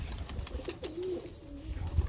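Pigeons coo softly in a loft, one short rolling coo rising and falling in the middle amid faint background rustle, with no talk.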